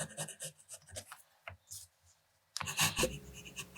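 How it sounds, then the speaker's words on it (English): A fountain pen with an extra fine nib writes on 20-pound copy paper, giving close, soft scratchy strokes in short bursts separated by quiet pauses, with a louder cluster of strokes near the end. "The last writing sample is done on 20-pound copy paper."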